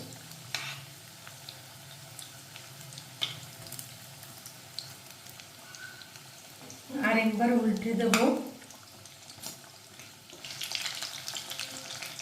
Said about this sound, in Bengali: এক পিঠটা ব্রাউন করে ভাজা হয়ে গেছে, এবার একবার উল্টে দেবো।